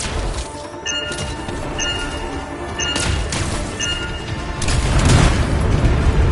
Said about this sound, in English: Shields down, but I think the explosion destabilized the foundry